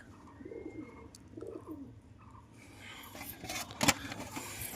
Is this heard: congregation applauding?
no